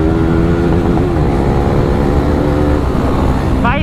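KTM Duke 390 and RC 390 motorcycles, one with its exhaust removed, accelerate side by side in a short road drag race with traffic around. Their engines drone loud and steady throughout, and the pitch climbs near the end.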